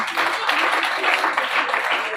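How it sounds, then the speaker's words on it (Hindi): Dense, sustained applause from an audience at a youth festival prize-giving in India, a steady wash of many hands clapping with no pauses, moderately loud and unbroken throughout. "जोरदार तालियां"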